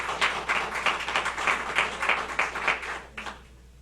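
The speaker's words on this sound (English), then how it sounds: "Round of applause to them." An audience claps at a rowing club presentation, a brief round of applause with a dense patter of individual claps that swells, holds for about three seconds, then fades out.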